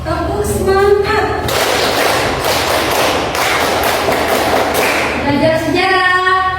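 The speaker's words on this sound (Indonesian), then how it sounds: "Oke, tepuk semangat." A classroom of students doing the tepuk semangat spirit clap, loud rapid group clapping in a steady rhythm, with chanted voices at the start and end.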